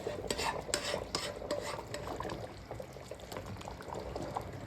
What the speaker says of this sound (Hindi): मैं दोबारा से इसमें थोड़ी सी यखनी ऐड करूँगी पाए की, और इसको अच्छे से साफ़ कर लूँगी